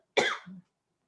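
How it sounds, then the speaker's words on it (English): A single short, throaty cough close to the microphone, a harsh burst trailing into a lower rasp, followed by silence. "I've got a cough."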